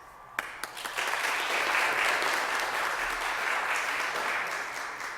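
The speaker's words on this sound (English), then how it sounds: "I know that cheering outside is not technically for us" An outdoor crowd cheers and applauds outside a mayor's press conference, a few sharp claps first, then a broad, sustained roar of clapping and cheering that slowly fades.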